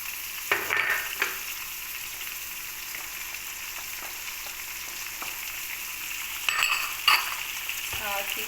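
Mutton frying in a pan for karahi with ginger garlic paste, giving a soft continuous sizzle under a few sharp clinks and scrapes of stirring.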